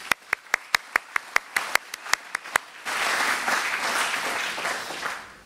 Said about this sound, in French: Je pense qu'on peut les applaudir tous très fort.